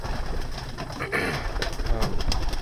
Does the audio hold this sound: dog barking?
no